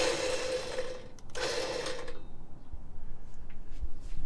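An OPENROAD 9500PR electric winch mounted on a 2007 Jeep Wrangler JK whines as it reels in its hook, two close motor bursts with a brief break between, then stopping into quiet.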